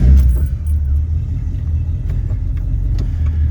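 A lifted Squarebody 3+3 crew cab truck with a 4L80 transmission starts and pulls away, its engine rumbling loudly and steadily close by, with faint metallic jingles on top.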